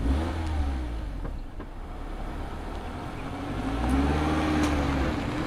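A Mazda MX-5 Miata, ND3 generation, drives along a winding road, its engine humming steadily up close, dipping slightly, then swelling louder as it accelerates near the end, with no talking.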